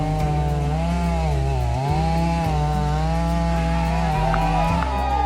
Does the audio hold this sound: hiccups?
no